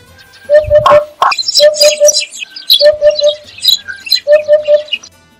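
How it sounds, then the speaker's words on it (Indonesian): Repeated hoopoe calls in short bursts of two or three soft, hollow notes, steady and clear, with brighter chirps and twitters from other birds behind them. "Suara burung ini juga tidak indah terdengar seperti huf, huf, huf yang berulang-ulang."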